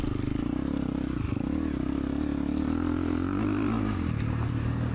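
An enduro motorcycle engine revs hard and steadily while climbing rough terrain at a Crazy Ferma enduro event. A loud, near growl carries throughout, with clattering and scraping mixed in and no talk.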